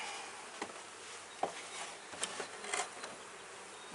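Honey bees hum steadily at an opened hive, a faint, even drone with a few brief clicks and knocks of handling, with no voices.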